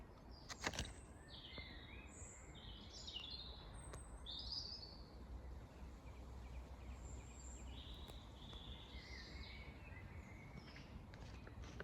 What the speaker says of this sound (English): Little bit of bird song while I zoomed in